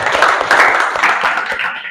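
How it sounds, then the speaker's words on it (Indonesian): Short burst of hand clapping from a group of students in an Indonesian classroom, dense and close, fading slightly toward the end. "Tepuk tangan untuk Gio."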